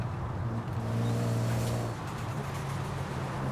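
A Toyota 2000GT engine in Forza Horizon 4 drones steadily at a low pitch, swelling slightly as it revs, with a faint turbo whistle above it and no talking.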